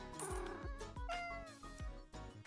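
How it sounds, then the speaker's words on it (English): A cat in the video game Minami Lane meows clearly several times in quick succession, its short, bright mews sounding close against quiet game music. "Another cat."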